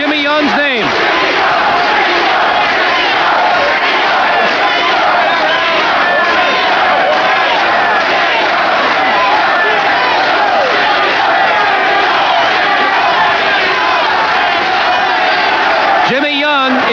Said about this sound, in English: They're chanting Jimmy Young's name.